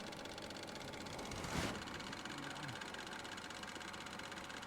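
A Chevy Cruze engine with a coolant leak idles in a steady low drone. It holds close and even throughout, with one brief louder burst midway and no talk.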